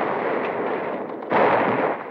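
Machine gun fire from Japanese positions set up in wrecked amphibious vehicles at Tarawa, 1944, a dense, steady crackle of gunfire with a sharp louder burst partway through, no voices.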